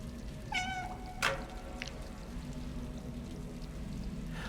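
A cat in the video game Stray lets out a single clear meow, followed by a dull thunk, over a steady low background hum.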